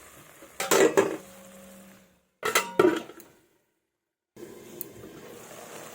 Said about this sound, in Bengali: এবার 3 থেকে 4 মিনিটের মতন ঢাকা দিয়ে দেব।